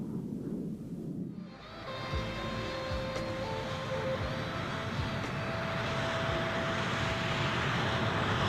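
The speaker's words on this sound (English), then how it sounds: "In a matter of seconds, the plane accelerated away," Loud, continuous jet roar swelling and holding steady as a plane accelerates, dense engine noise with a faint whine layered on top.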